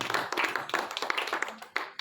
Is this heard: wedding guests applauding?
yes